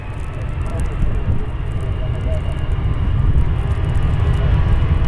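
Airplane on Flight 1014 bound for Atlanta, seen at Cleveland Hopkins during a winter storm, gives a steady broadband engine roar and low rumble that builds slightly louder over the few seconds.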